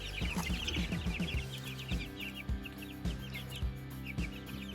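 Chickens cluck in short repeated bursts, with chicks peeping high and busy in the background, all fairly close.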